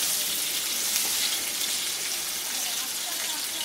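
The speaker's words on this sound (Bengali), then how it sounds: "আমি আলু আর ঝিঙেটাকে একটু আলাদাভাবে ভেজে নিচ্ছি।" Potatoes and ridge gourd fry in oil, a steady bright crackling sizzle like light rain, moderately quiet and continuous, no one talking over it.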